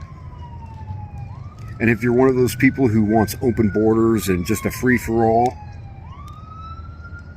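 A siren wails steadily at a distance, its pitch sliding up and down, while someone talks over it in the foreground.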